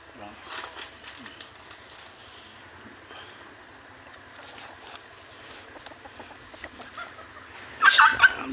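Chickens cluck faintly in a backyard with a louder squawk near the end, while a person talks over them outdoors.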